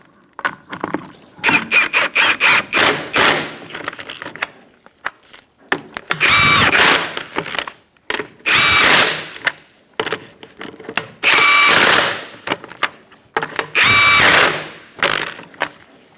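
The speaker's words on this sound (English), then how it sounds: "I like to walk my wheel on using this bottom lug nut and then tightening in a star-like pattern." An impact or power tool spinning and hammering wheel lug nuts onto a 2004-2009 Mazda 3, several loud close bursts of a few seconds each with quiet gaps between, no talking.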